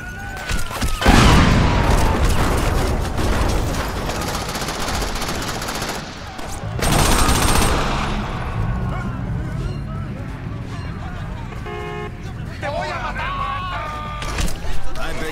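Rapid gunfire bursts in the video game Crackdown, loud machine-gun volleys and booms in chaotic street combat, dense at first and again around midpoint, with a voice talking over parts of it.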